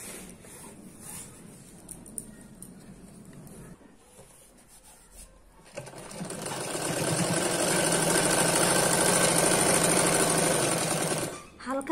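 A sewing machine runs in a steady, loud whirring burst while stitching a petticoat, following quieter handling noise and a soft voice earlier on.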